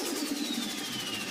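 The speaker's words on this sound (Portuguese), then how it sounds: "E esse é o som de um flutter." A turbocharged car engine gives off a rapid, pulsing turbo flutter, a steady fluttering chatter over an engine hum with a faint descending whistle, heard alone.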